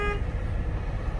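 A short, steady truck horn blast sounds up close, cutting off quickly over a low rumbling engine.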